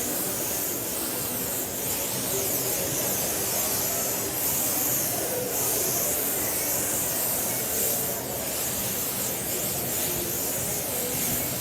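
Airbrush spraying California Tan spray tan solution, a continuous steady hiss at moderate level with no pauses or voices.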